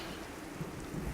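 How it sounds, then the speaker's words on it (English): Thunderstorm with rain in the video game Godus, a brief, faint wash of rainfall with soft low rumbling underneath, heard alone. "it's a storm"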